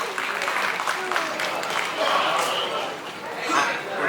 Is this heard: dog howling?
no